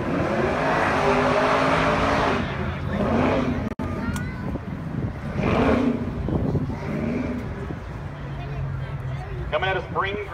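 A 1972 AMC Javelin AMX hot rod with a 6.2 liter Hemi on an autocross course, its engine roaring and revving loudly and continuously as someone talks over it throughout.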